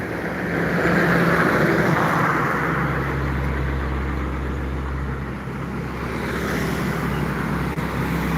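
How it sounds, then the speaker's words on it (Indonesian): Highway traffic with buses and trucks on Jalan Lintas Timur in Palembang: a loud, continuous roar of engines and tyres, with a deep rumble that grows heavier as a large vehicle passes nearby. "hunting di Jalan Lintas Timur Palembang tentang bus dan truk yang masuk sekitar Jalan Lintas Timur Palembang"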